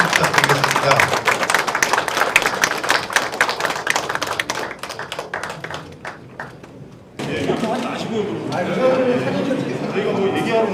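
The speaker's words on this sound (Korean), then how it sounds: "네, 한번 큰 박수 부탁드리겠습니다" A group claps loudly for several seconds, the applause thinning and fading out before voices take over.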